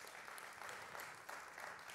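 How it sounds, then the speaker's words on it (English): Faint, distant applause at a book launch in Lagos, a soft continuous patter of clapping from a crowd with no voices over it. "another applause for him"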